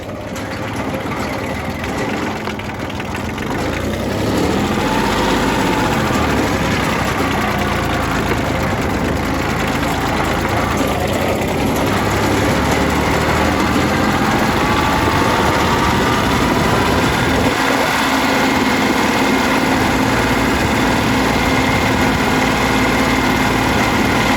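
A car engine idles steadily after a low-pressure fuel pump replacement, a loud, close, continuous rumble with a faint knocking texture throughout and no speech heard.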